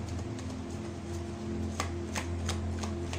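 Tarot cards being shuffled indoors, a series of quick soft riffling flutters and light taps close by over a faint steady hum.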